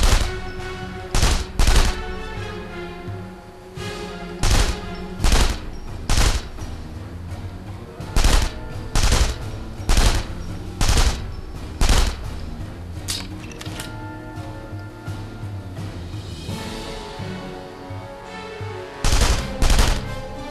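Gunfire in The Saboteur plays out as a series of loud, close shots landing in short regular bursts roughly every second or so, separated by brief pauses over a low game background.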